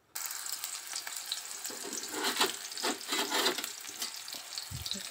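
Onion dropped into hot oil in a home kitchen pan, sizzling steadily after a sudden start, with bursts of crackling frying and a few soft stirring knocks near the end, no talking.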